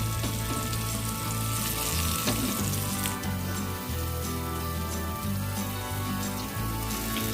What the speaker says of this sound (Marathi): उरलेले हे सर्व हलव्याचे पीसेस जे आहेत आपण तव्यावरती फ्राय करत ठेवूया